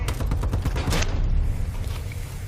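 Gunfire during a Call of Duty: Advanced Warfare Domination match: a dense, loud burst of rapid shots with booming low rumble, most intense early, then tailing off into a fading rumble without speech.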